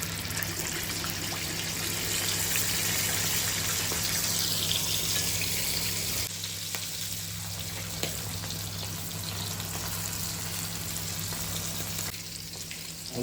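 Cornflour-coated pomfret frying a second time in hot oil, a steady broad hiss over a low electrical hum, louder at first and easing slightly partway through, with no talking.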